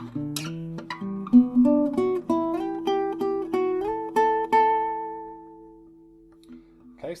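Guitar solo passage from a song, a sequence of single plucked notes rising in pitch with some sustained, ringing tones, played alone at moderate volume with a slow, deliberate rhythm.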